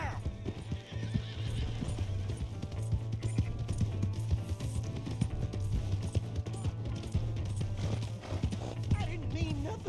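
Rapid clip-clop of a galloping horse with a whinny in the video game Red Dead Redemption 2, under shouting voices and background music.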